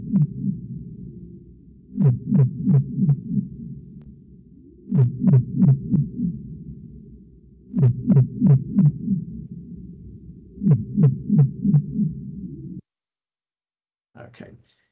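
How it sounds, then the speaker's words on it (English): Antarctic minke whale bioduck calls recorded underwater in the Perth Canyon: repeated trains of rapid, low, quacking pulses in regular bursts about every three seconds over a steady hum, ending in near silence. "the Antarctic minke whale is the so-called producer of the bioduct sound in Perth Canyon"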